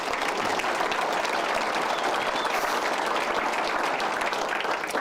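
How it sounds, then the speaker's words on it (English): A company audience breaks into dense, sustained applause for a colleague, a thick wash of many hands clapping at full strength with no pauses. "How about a round of applause for Linda?"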